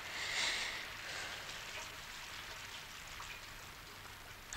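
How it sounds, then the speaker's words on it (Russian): Steady rain patters in a soft, continuous wash, fairly close, with no voices over it. "Дождь идет"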